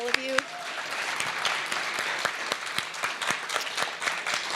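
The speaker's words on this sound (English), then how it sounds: "One more round of applause to all of you." Audience at a medical cannabis and recovery forum gives a round of applause, a sustained patter of many hands at moderate level, with a few sharper individual claps and a brief tone near the start.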